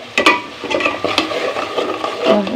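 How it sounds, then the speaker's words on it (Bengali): Garlic and cumin paste being stir-fried with spices in a pan for a prawn and Malabar spinach dish, close scraping and stirring strokes over a soft sizzle, irregular and fairly loud, with no talk. "কষি নিচ্ছে রসুন বাটা জিরা বাটা"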